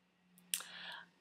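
A single quiet mouse click lands sharply in a near-silent room, followed by a brief soft rustle, with a faint electrical hum underneath.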